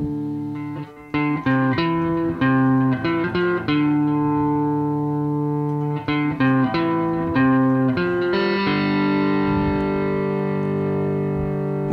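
Guitar playing the next section of a melody, a run of picked notes ending on a long ringing chord, close and clear with a reverberant effected tone, no voices.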